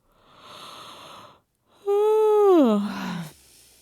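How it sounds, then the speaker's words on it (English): A faint breathy intake is followed by a loud, drawn-out voiced yawn that slides downward in pitch and trails off into a sigh. "I think that's enough yawns for now."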